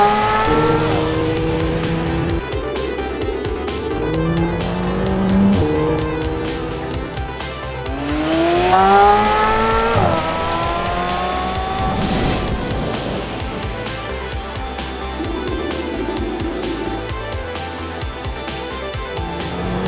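A McLaren 720S's loud engine revs up and down through the gears, with rear tires squealing on tarmac during hard cornering.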